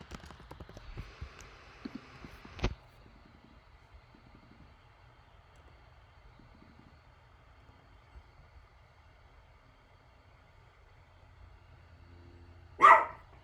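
An agitated dog barks a few times in the distance early on, then a single sharper, louder bark near the end, separated by long quiet stretches in an indoor room.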